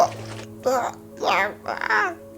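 A human voice imitates drowning, making four short gurgling, sputtering bursts up close that sound like choking on water.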